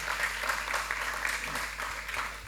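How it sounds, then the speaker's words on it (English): Audience applause at the KNAUF BuildIt 2019 event, a steady dense wash of clapping filling the room, fairly loud and continuous throughout with no voice on top. "Please clap for him."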